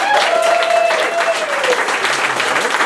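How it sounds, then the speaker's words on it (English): Loud, dense applause from a live concert crowd at the Burdock Music Hall, close and continuous, with a faint voice or tone passing through the cheering. "let's have a big round of applause again for the new Burdock Music Hall."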